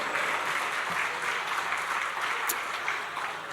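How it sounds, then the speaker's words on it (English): Audience applause at a gala dinner, with a steady wash of many hands clapping together at moderate loudness, filling the room evenly without a break. "Can we give AAA City Removalists your biggest applause possible?"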